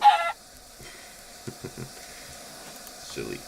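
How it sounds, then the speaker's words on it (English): Chicken clucking in Minecraft, a few short clucks midway with a brief louder burst at the start, over a quiet background. "silly chicken."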